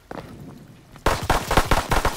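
Rapid bursts of gunfire in the World War II shooter Call of Duty: WWII, starting abruptly after a quiet moment and continuing as loud, closely spaced shots.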